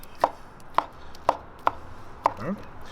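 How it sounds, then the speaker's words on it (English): Knife cutting through cooked turkey thigh meat on a board, five crisp evenly spaced chops close to the ear, the last followed by a short scrape. "I'm just take my knife and I'm gonna thin slice it"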